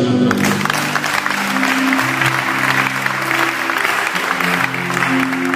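A church congregation breaks into sustained applause praising the Lord, loud and dense clapping from a crowd with faint voices and sustained musical tones underneath throughout.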